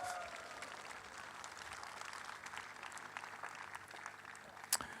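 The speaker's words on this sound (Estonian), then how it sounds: "Aplaus Taistole!" Faint, distant applause from a festival audience at a South Estonian seniors' folk celebration, a soft continuous patter of clapping with a crowd murmur and one sharp knock near the end.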